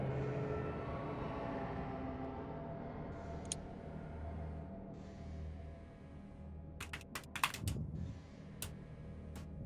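Several people tapping on computer keyboards during a Pressure game session, faint scattered keystrokes then a brief flurry of sharp clicks over a low hum of room noise.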